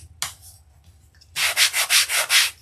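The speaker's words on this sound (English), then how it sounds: "this one needs to be sanded" Hand sanding on a wooden sign insert for a window tabletop design: a short scrape, a pause, then a run of about six steady rhythmic rubbing strokes, close and fairly loud, with no talking.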